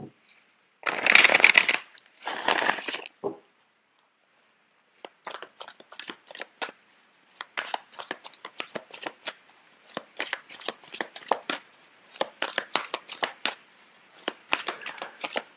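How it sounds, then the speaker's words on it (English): Playing cards are riffled twice in quick bursts, followed by a long run of soft, rapid card-flicking and shuffling sounds, close by. "I'm going to shuffle the cards out for you"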